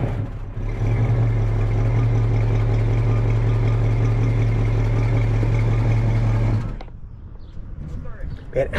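A 1967 Plymouth Barracuda convertible with dual exhaust idles with a steady, deep exhaust rumble, running continuously before cutting off abruptly, leaving quiet background afterward.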